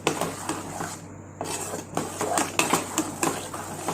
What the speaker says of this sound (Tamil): நல்லெண்ணெயை கொஞ்சம் கொஞ்சமாக விட்டு நல்லா மிக்ஸ் பண்ணிக்கிட்டே இருக்கணும்